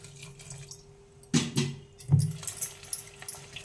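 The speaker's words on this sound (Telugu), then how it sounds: "తగినంత వాటర్ పోసుకోవాలి." Water is poured into a cooking pan in a home kitchen, coming as two short splashing gushes followed by light trickling and dripping against an otherwise quiet background.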